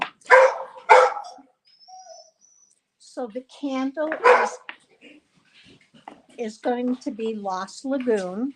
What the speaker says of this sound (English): Someone rang the doorbell and the dogs were supposed to be put away and they aren't.